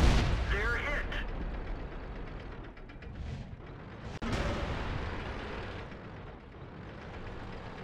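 A tank is hit and blown up in World of Tanks, a heavy booming blast with rumbling mechanical clatter, loud and close, followed by a second sharp impact midway.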